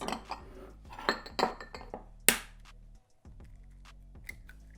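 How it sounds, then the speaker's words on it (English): Eggs cracked against a bowl rim for homemade burger bun dough: a quick run of sharp taps and clinks, one bright crack standing out, then a near-silent pause and a few faint knocks, close and alone. "Crack the eggs"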